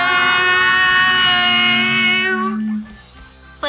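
A long, high, tonal whale call with a rich set of overtones wavers and slides for a few seconds before cutting off.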